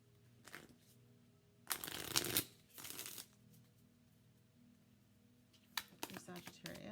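A deck of wellness oracle cards being shuffled close by in a quiet room, with a few short bursts of riffling and rustling separated by near silence.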